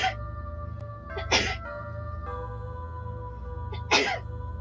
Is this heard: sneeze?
yes